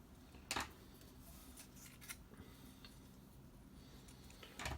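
Paper being cut with scissors while trimming card stock for a stamped greeting card, giving a brief close snip near the start and another at the end, with quiet faint handling noise between.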